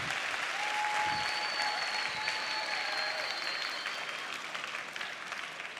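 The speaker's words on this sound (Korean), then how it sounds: "박수." A crowd at a church summer camp evening gathering breaks into dense, sustained applause that stays full and steady throughout before easing slightly at the end, with faint tonal calls above it.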